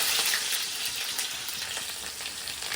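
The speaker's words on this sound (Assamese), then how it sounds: "যিহেতু তেল গৰম হৈ গৈছে আৰু মই ইয়াতে এতিয়া দি দিম পিঁয়াজখিনি" Chopped onions frying in hot oil for pasta make a continuous, close sizzle with bright crackling that stays fairly even and moderately loud the whole time.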